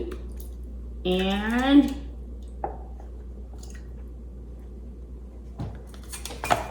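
Food slides from a cooking pouch into a pot of soup in a hotel room, giving a brief wet, squishy pour followed by a few light clinks and a soft stir, with someone talking nearby.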